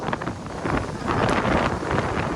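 Loud, steady wind buffets the microphone in strong stormy gusts over farmland, a continuous roar with rough surges and no voices.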